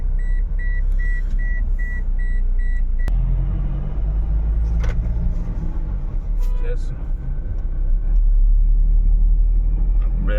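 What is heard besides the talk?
road traffic, vehicles moving on highway to Prayagraj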